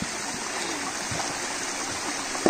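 A river in a rural setting where people are damming the water to catch fish, its steady flowing rush heard close and continuous with a faint splash near the end.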